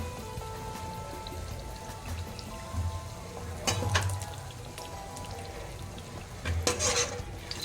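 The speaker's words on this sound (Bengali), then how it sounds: "মিডিয়াম আছে ভালো করে ভেজে নিতে হবে না হলে কিন্তু ভিতরে কাঁচা থাকতে পারে" Sooji pakan pitha fries steadily in a pan over medium heat, a soft continuous sizzle with faint crackles and a few brief louder pops, with no talking.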